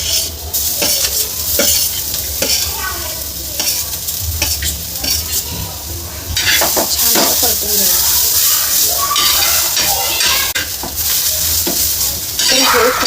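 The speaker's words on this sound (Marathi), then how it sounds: "आपला कांदा व्यवस्थित असा भाजलेला आहे त्यामध्ये आता आपण इथे हे खोबरं टाकणार आहोत" Dry coconut tossed into pan-roasted onion, sizzling steadily with repeated scraping and stirring strokes of a spoon against the pan; close and fairly loud, with a voice talking over parts of it.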